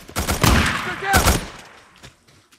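Grenade explosions in the video game Days Gone, two loud bursts close together with a decaying tail and scattered faint pops afterward, heard under brief talk.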